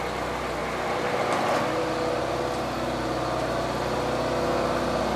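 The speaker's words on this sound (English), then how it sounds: "Now the mill and the air compressor are being powered by that generator." A Westinghouse WGEN9500DF dual fuel generator drones steadily in a garage while powering a mill and an air compressor, a loud, continuous engine hum with no pauses or talk.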